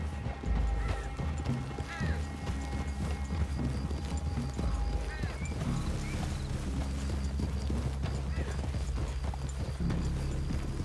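Horses walk in Red Dead Redemption 2, their steady hoof clip-clop running throughout over a continuous outdoor ambience, with an occasional whinny and faint bird calls.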